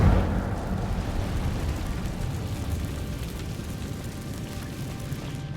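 Incendio fire spell cast in the video game Hogwarts Legacy, a loud whooshing fiery blast that bursts at the start and roars on, slowly fading over several seconds.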